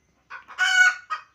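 Chickens on a poultry farm of around a hundred birds give a few close, loud clucks and a drawn-out crowing call in short bursts, with no voices.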